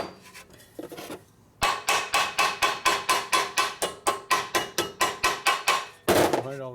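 Rhythmic metal hammering on a hose-clamped part during a 1967 Harley-Davidson 74ci Shovelhead transmission rebuild: about twenty evenly spaced, loud ringing blows in a steady beat after a brief quieter start, followed by a scraping rattle.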